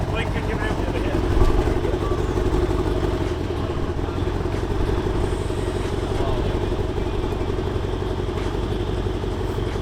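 A 600 BHP Toyota Supra engine runs at a steady idle, a continuous close rumble with mechanical clatter throughout, and voices can be heard around it.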